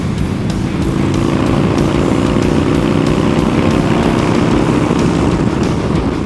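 A Yamaha Bolt motorcycle being ridden, its engine droning loud and steady with a low rumble and a constant rush of wind, no voices heard.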